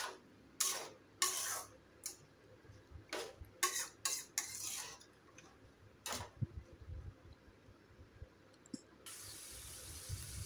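A carrot and capsicum fry is stirred in a pan with a spoon, giving close, irregular scrapes and knocks against the metal over a soft sizzle, with a brief hiss near the end.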